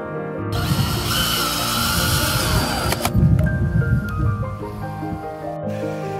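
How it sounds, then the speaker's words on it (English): A power drill drives screws into wooden pallets being joined into a garden tank stand, a loud, close, continuous whine that winds down and then stops. "Just adding a final few screws to screw the pallets together"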